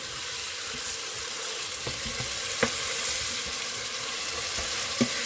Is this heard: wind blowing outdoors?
no